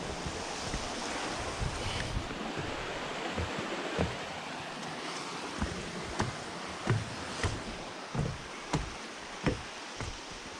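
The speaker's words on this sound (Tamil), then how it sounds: "கல்லுக்கு மத்தியில் தண்ணி ஓடுது" Water runs between rocks in the Ihlara Valley canyon as a soft, continuous rushing, with faint irregular thumps like footsteps toward the end and no talking.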